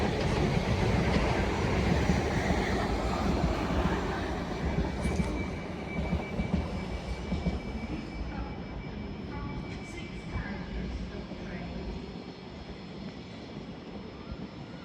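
A British Rail Class 378 electric train pulls away from Clapham Junction, a steady broadband rumble that stays loud and close before easing off toward the end, with faint voices in the background.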